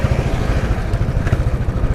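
A Royal Enfield 350 motorcycle engine runs with a dense, throbbing low-pitched pulse, steady and loud throughout, with no voices.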